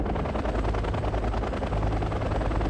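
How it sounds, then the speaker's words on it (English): Military helicopter in the Wargame: Red Dragon strategy game, a steady loud rotor thump with rapid rhythmic chopping pulses running throughout under dense battle noise. "Oh, that helicopter looks awesome."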